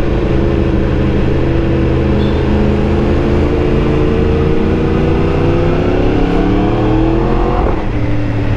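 A crossplane superbike engine runs loud and close, holding a steady rising drone as the revs climb, then changes pitch abruptly near the end as if on a quick-shifter upshift.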